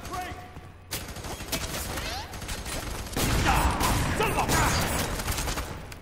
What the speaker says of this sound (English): Shotguns solve everything.